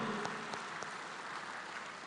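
Steady audience applause for a speaker at a conference gathering, a dense wash of clapping with a few sharper claps standing out, moderately distant and continuous.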